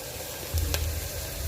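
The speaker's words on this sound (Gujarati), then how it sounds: "આમાં મસાલા શેકવા ખૂબ જરૂરી છે જો મસાલા આપણે શેકીએ નહીં કાચા રહી જશે" Spices and onion roast in a hot pan, a steady close sizzle with a brief scraping stir partway through, no voices.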